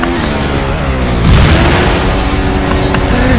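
An explosion in the motorbike video game Trials Fusion lands as one deep, loud boom partway through. It rises over a steady droning engine that continues throughout.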